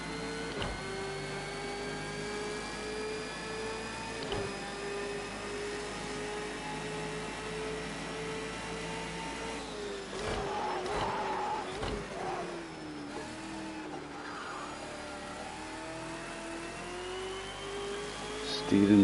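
A Ford Falcon race car laps the Daytona road course in Project Cars 2, its engine whining and shifting pitch through gear changes, with someone talking over the steady simulated motor.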